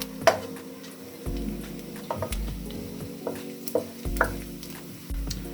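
A tablespoon of chopped garlic sizzles steadily in hot oil for a vegetable samosa filling, with soft stirring scrapes and occasional clinks of the pan, close-up and with no talking.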